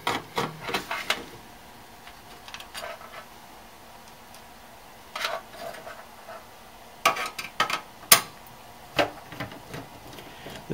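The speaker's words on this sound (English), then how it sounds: "Just going ahead and using my regular screwdriver because that cordless one's about dead." Hand screwdriver taking screws out of a hard drive cage in a Dell Dimension 2400 desktop case, close scattered clicks and metallic ticks in short bursts separated by quiet pauses.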